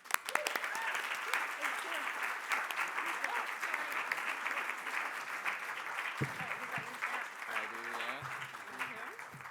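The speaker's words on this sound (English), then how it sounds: "Big round of applause." Crowd applause for award winners at the Scots Language Awards ceremony, a sustained wash of clapping throughout, with a voice beginning to speak over it near the end.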